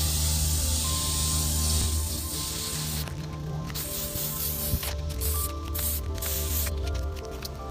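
An aerosol can of varnish sprays a fresh coat over a painting lying flat, a steady close hiss broken by short pauses and renewed bursts, with no talking.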